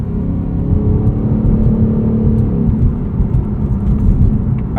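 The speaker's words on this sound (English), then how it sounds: "Oh, I can't get over that exhaust." A 2024 Ford Mustang GT Coupe Premium with a 10-speed automatic rumbles steadily through its exhaust under way, a loud, continuous low growl with road whir that stays even throughout.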